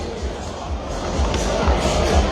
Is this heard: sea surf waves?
no